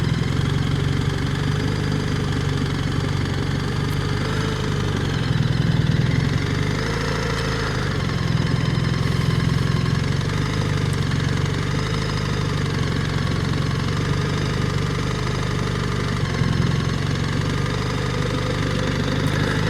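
A BMW R1300RT motorcycle engine runs at low revs through slow, very tight turns, a steady close mid-low drone with slight swells and no talk.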